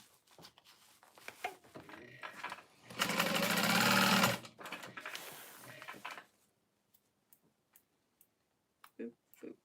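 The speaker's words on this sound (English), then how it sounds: "Sewing this bottom together." A sewing machine stitches the bottom of a satchel in one loud, rapid burst of about a second and a half, set among quieter clicks, handling noises and brief talk.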